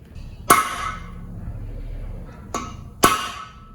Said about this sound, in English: Need a bigger hammer.